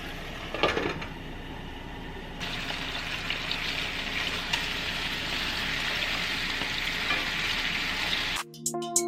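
Shrimp frying in a pan gives a steady, close sizzle with a few stirring clatters, continuous for several seconds before cutting off into an unrelated sound at the end.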